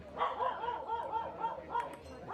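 A dog in attendance at a doubles table tennis match barks and yips repeatedly, a series of short, fairly close barks with a whiny quality.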